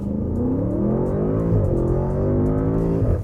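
An Audi S8's powerful engine revs up hard, its pitch climbing steadily through a gear change as it accelerates loudly and close by.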